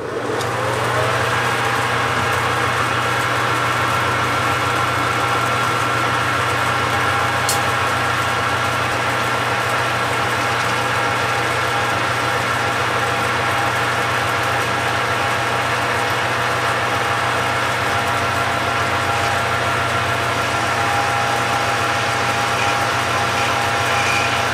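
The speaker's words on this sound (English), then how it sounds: "So I got the lathe all powered up." A lathe, powered up to turn brass stock, hums steadily with a constant motor drone and faint whine, running alone and unchanging throughout.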